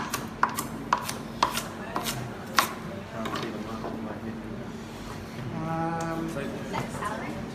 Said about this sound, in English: cutting my top and tail off the carrot